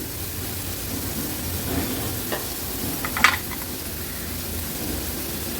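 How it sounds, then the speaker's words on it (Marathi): Washed dried shrimp frying in a tomato and onion masala in an Agri Koli style kitchen, a steady soft sizzle with scattered scraping stir clicks and one sharper clatter midway, no voices. "स्वच्छ धुवून घेतलेला हा जवळा आहे, तो ऍड करते।"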